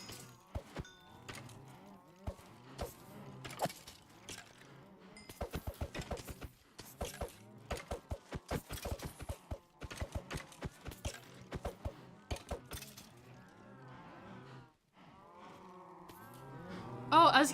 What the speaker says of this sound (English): why am I hearing so much mooing?